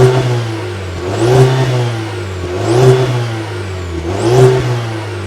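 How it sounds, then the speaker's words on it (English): A 2020 Cadillac CT4-V sports sedan's exhaust is revved three times in a row, each throaty rise and fall close and loud over a low idle. "we still have to listen to the exhaust sound"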